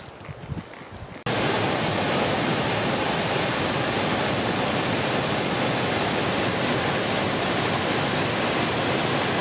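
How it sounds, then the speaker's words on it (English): Dawn Mist Falls, a large waterfall on the Belly River in Glacier National Park, roars as a loud, steady broadband rush that sets in abruptly after a quieter opening and continues without a break. "that's a massive waterfall"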